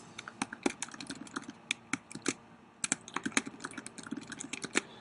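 Keys clatter on a computer keyboard as a site name and password are typed, a close, moderately quiet run of quick irregular clicks with short pauses.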